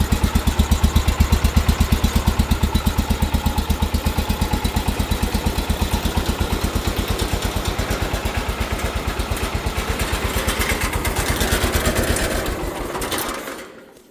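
Small single-cylinder engine of a 1980 John Deere 216 lawn tractor running steadily at a fast, even idle, loud and close, with a rapid regular firing pulse before it winds down and cuts off near the end.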